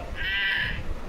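A young voice imitates a cow mooing in a single drawn-out, high, bleating call lasting under a second. It sounds close and fairly loud, with a low rumble of room noise beneath it.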